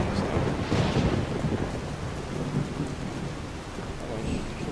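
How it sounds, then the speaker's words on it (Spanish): Thunder rumbles heavily through steady pouring rain during a storm in Skyrim, a loud, dense wash of rain and low booming that holds across the whole stretch. "se han duplicado los relámpagos ahora"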